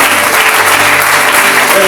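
A church congregation claps together in a dense, steady burst of applause that fills the room close to the microphone.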